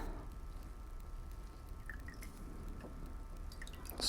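Quiet, scattered drips of water falling from a wet rope, irregular small splats against a faint background hiss.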